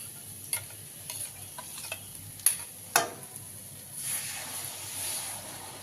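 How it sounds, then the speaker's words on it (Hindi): A spice paste for an aloo baingan curry fries softly in a pan while being stirred, with a low sizzle and several sharp scraping ticks and clinks of a spoon against the pan, no talking. "अब इसको भी हम चलाते हुए अच्छे से मसाले के साथ भून लेते हैं"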